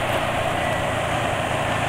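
A motorcycle engine running on Meditran SX Bio oil in midday heat hums steadily and smoothly, a dense, even drone with no breaks, close and loud, with no talk.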